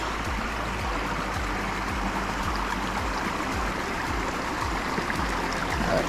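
Water trickles and splashes over a small beaver dam on a lake, a steady broadband wash close by with faint low thumps running through it, no voices.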